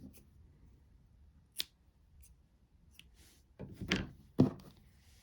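Scissors snip through a crochet yarn tail on an amigurumi project, giving a couple of quick close cuts near the end after a faint click and quiet handling.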